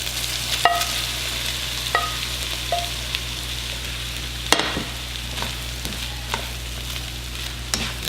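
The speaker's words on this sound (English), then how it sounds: "Let's go ahead and add the shrimp" Shrimp cooking in half a stick of melted butter in a pan, giving a steady close sizzle with occasional clinks of a utensil against the pan.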